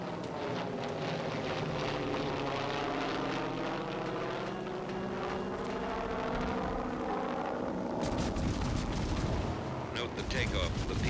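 A PBY flying boat roars as it takes off, propeller engine drone rising and throbbing steadily, then turning rougher and louder toward the end.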